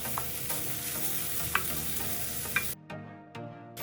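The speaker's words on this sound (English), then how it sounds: "Stir fry for about 1 minute on medium-high heat." Carrots and other vegetables stir-fry in cooking oil over medium-high heat, a continuous loud sizzle broken by a few spatula scrapes, then the hiss drops away sharply near the end, leaving a quieter crackle.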